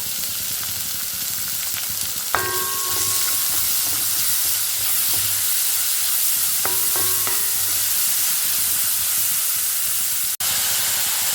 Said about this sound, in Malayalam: ഇത് ഒരു വലിയ ഉള്ളി മുറിച്ചതാണ് ഈ സമയത്ത് നമുക്കത് ചേർക്കാം